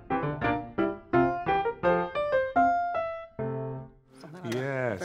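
Leukippos's energetic leitmotif from Strauss's opera Daphne, a short run of bright, detached orchestral notes in a bouncy rhythm, followed by a brief sustained phrase.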